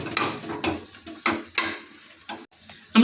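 Chikni greens and tomato are stir-fried in a kadai, with repeated scraping strokes of a spatula against the metal over a soft sizzle, several rhythmic bursts close up with no speech.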